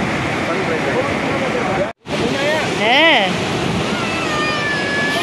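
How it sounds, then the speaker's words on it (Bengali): Shivanasamudra Falls in full monsoon flow gives a loud, constant broadband rush of falling water, broken once by a brief dropout. People talk over it, and a whistle or animal-like wavering sound rises in the middle. "এত সুন্দর ঝর্ণা"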